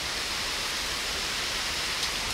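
Hail mixed with rain and snow falls outdoors beside a balcony, a dense, even hiss of pellets and drops that continues unbroken throughout.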